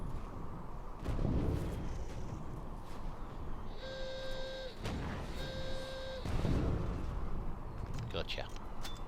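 Chemical mortars fire in the Toy Soldiers video game on the Kaiser's Battle, Operation Gneisenau level: a few heavy booming blasts spread across a steady battle din, with two short electronic tones sounding in between.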